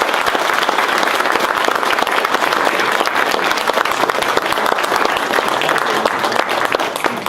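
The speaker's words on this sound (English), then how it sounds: "A round of applause for the candidates" A crowd at a county commissioner debate gives the candidates a full round of applause, loud and steady from start to finish with no pause and no speech over it.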